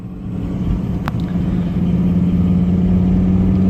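A Volvo 850 engine with a blown head gasket runs steadily up close, a deep rumbling idle with a strong low hum that grows slightly louder, and one brief sharp click near the start.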